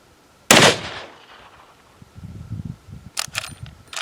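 A single loud, sharp gunshot from a Marlin 45-70 Guide Gun rifle cracks close by and decays with a short echo, followed by faint rustling and a few quick clicks and knocks.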